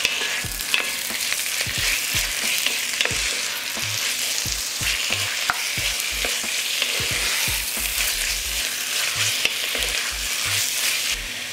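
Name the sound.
meat frying with onion and carrot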